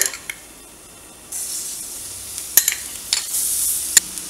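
Chili flakes and garlic hitting hot olive oil for a veggie stromboli filling: quiet at first, then a sudden bright sizzle that persists, broken by a few sharp stirring clinks.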